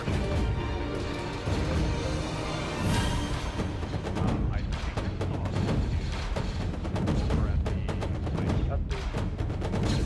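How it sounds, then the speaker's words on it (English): Sustained blaster gunfire exchange in an Arma 3 battle, dense overlapping shots and bursts near and far filling the whole span with constant loud combat noise, voices faintly under it. "our interview was cut short by a bout of blaster fire erupting near our position"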